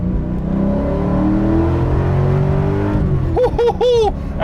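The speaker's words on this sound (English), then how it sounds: "Oh, that's a big V8. There's no forced induction happening here. This is just V8 power." A 2000 Ford Mustang SVT Cobra R with a naturally aspirated V8 drones loudly and steadily under acceleration, its engine note rising in pitch, with a voice speaking briefly near the end.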